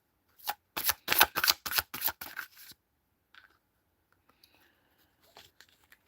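Tarot cards are shuffled in a quick, crisp burst of riffling flicks lasting a couple of seconds, then it goes nearly quiet apart from a few faint handling sounds.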